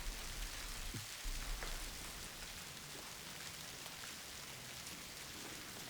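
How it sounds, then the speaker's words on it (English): Silkworms chewing through mulberry leaves make a soft, steady, rain-like patter of countless tiny crunches, faint and continuous with no voices. "The rate at which they eat is shown in this time-lapse. It sounds like a gentle summer rain."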